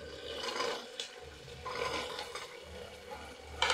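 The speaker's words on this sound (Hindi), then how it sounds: "अभी जो वेजिटेबल लिया सारे वेजिटेबल ऐड कर देती हूँ" Chopped vegetables sizzle and scrape in a hot pan while being added for mushroom biryani. The rasping frying and stirring runs steadily, close up and moderately loud, with no talking.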